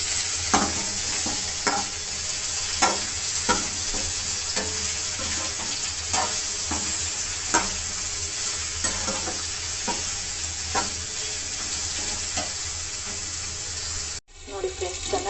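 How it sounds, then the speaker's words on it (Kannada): Capsicum and onion fry in a pan with a continuous close sizzle, while a spoon scrapes and stirs in regular knocks about every second. A short jolt of handling noise comes at the end. "ಇದು ಸ್ವಲ್ಪ ಫ್ರೈ ಆಗಲಿ."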